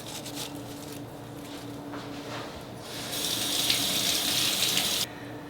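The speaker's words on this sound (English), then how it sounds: "We'll pick out some sprigs of mint here, rinse those." Water from a kitchen tap runs steadily nearby while mint sprigs are rinsed, the flow briefly growing louder and brighter before shutting off near the end.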